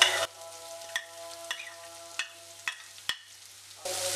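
Green chillies and small shallots frying in oil for a restaurant-style dal fry, a steady low sizzle broken by several sharp clinks of a spoon against the pan, with no voices.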